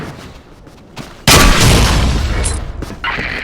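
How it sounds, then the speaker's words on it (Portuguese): A heavy bomb explosion in a shooter video game bursts in loud and close after a quiet lead-in, then rumbles and decays with a second smaller blast near the end. "Bomba na área."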